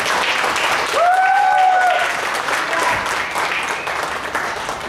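Congregation applauding during a church worship service, a loud sustained round of clapping with some cheering tones rising over it for about five seconds.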